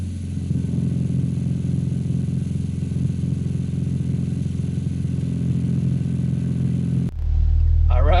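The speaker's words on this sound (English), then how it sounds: "the car is actually on right now and it's idling" Turbocharged 1.6-litre Nissan Sentra B13 engine idles steadily with a close, even low rumble, then the sound cuts abruptly near the end to a louder, deeper tone.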